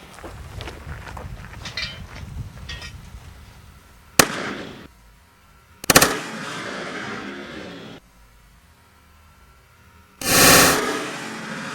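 A homemade mini cannon fires loud, sharp outdoor blasts, each with a short echoing tail, after a stretch of quiet rustling and handling noise.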